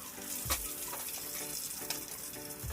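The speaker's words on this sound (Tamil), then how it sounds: "ஒரு சிக்கன் பீஸா எடுத்து நம்ம ஃப்ரை பண்ணிக்கலாம்." Chicken pieces for chicken 65 deep-fry in oil in a kadai over a low flame, giving a steady close sizzle with a couple of louder bubbling bursts and no talk.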